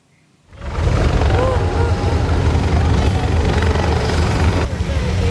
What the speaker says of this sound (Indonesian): Helikopter yang ditumpangi Presiden Prabowo mendarat di Stadion Merdeka Kota Jombang, Jawa Timur pada Kamis sore.